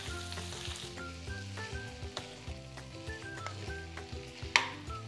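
Chicken gizzards sizzle and fry in a hot pan with garlic, a steady crackling hiss punctuated by stirring clatters and one sharp utensil knock.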